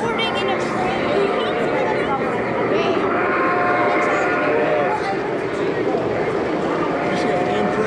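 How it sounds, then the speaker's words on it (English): A model Amtrak train runs along its layout track at a fall train show in Plano, Texas. Its steady rumble and clatter sit under a busy hall where crowd chatter and voices carry throughout. "You see an Amtrak going around there?"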